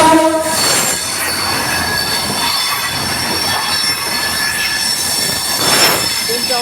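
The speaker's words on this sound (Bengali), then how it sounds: "ট্রেন কিন্তু একটা অলরেডি চলে আসছে, আপনাদের ট্রেনটা দেখাই।" A train rolls through a crowded fish market, its wheels squealing loudly and continuously at close range with a rushing rumble and a horn-like tone rising near the end.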